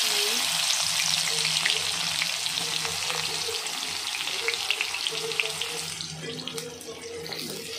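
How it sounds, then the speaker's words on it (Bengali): Three or four green chillies sizzle in a kadai of hot oil left over from frying fish, a dense bubbling hiss with crackling pops, steady and close, easing slightly toward the end. "তিন চারটা কাঁচামরিচ ছেড়ে দিছি।"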